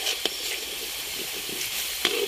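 Coconut milk frying down into latik in a pan, a steady close sizzle and hiss with a few sharp pops and faint stirring scrapes, no talking.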